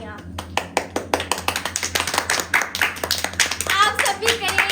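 Hands clap in a loose, uneven patter for Ducky Bhai after he wins the 2023 best YouTuber award, the taps sharp and close while a person keeps talking over them.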